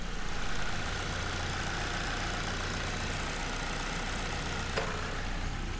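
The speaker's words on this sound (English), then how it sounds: "I think the engine sounds really good now." A car engine idles steadily at a moderate distance, a low even hum with a brief click near the end.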